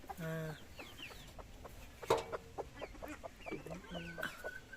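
Several chickens cluck in short, irregular bursts close by, with a few louder squawks and faint voices in the background.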